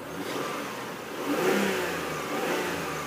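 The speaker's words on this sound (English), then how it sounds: "I'll let you listen to the engine." A 2002 Mitsubishi Diamante LS engine with a slight misfire runs at a steady idle, then revs briefly, with a slightly uneven, stumbling rhythm in its hum; close and fairly loud, no talking.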